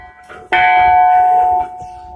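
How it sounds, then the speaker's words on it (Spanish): A single large church bell, the third-largest bell in the belfry of Santa María in Olite, strikes once up close, a loud bright clang that rings with a sustained hum and then fades. "Esta es la tercera campana mayor."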